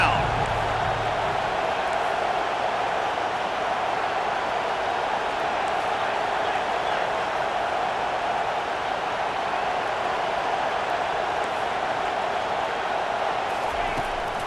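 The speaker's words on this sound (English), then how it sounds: "Here comes this home crowd as the defense tries to get off the field on 3rd down." An Auburn home crowd at a college football game roars as the defense tries to get off the field on third down. The dense, steady wall of noise holds for the whole stretch.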